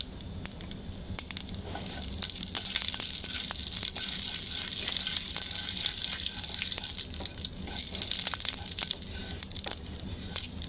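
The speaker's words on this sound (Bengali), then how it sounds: "এখন পটল ভাজা তেলে দিয়ে দিলাম পাঁচফোড়ন" Panch phoron and pointed gourd (potol) frying in hot oil give a steady, crackling sizzle that holds fairly loud and even throughout, with scattered pops and no talking.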